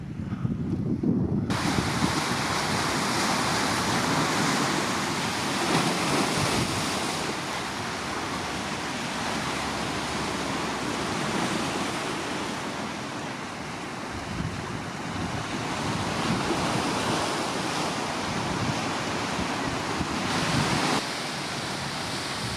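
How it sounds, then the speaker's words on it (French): Steady rushing water from a waterfall gushing out of rock roars continuously in Gibraltar, a broad, loud wash with wind buffeting the microphone, no voices. "une cascade qui jaillit du rocher"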